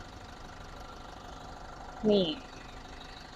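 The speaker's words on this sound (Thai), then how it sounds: "ฟังเสียงเครื่องยนต์กันสักนิดนึงนะคะ" An Isuzu MU-X 1.9 diesel engine idles with the hood open, a low, even rumble that runs steadily throughout while someone speaks briefly over it.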